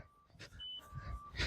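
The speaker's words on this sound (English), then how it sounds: "now the beeps have changed. So it's double beeping now, telling me that I'm under 10 meters" A Pieps Mini avalanche transceiver emits faint thin electronic beeps, a few short tones in quick succession amid rustling and breathy noise, quiet and close.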